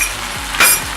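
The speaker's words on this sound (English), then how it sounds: "You have to mix it well for at least 2 minutes." Mutton fry being stirred with garam masala in a hot pan, a steady sizzle with a brief louder scrape of the spoon partway through, close and alone.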